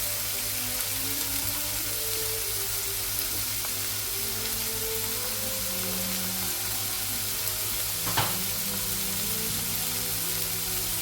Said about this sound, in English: So now I've got about 700 grams of beef mince, which I'm going to just cook and brown at the moment.